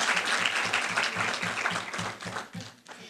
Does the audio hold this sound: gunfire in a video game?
no